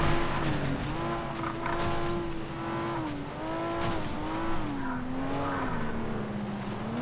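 Race car engine in the FlatOut racing game, a loud continuous whine rising and falling in pitch through gear changes, with tire skidding noise mixed in across the whole stretch.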